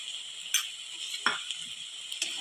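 Fenugreek leaves tossed with crushed peanuts in a pan, giving soft scraping stirs and a few light clinks of a utensil over a steady faint sizzle.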